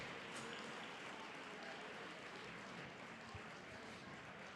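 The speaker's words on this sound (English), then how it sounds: "can we give a round of applause to all of our raffle winners one more time?" Broad, moderately faint applause from a gala audience at a charity signature event, cheering raffle winners, a continuous wash of clapping without clear individual claps.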